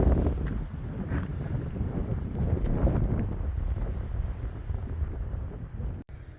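Wind blows at Dorothy Pass on the Pacific Crest Trail. A steady, rumbling roar buffets the microphone in close gusts, easing slightly toward the end and cut by one sharp click.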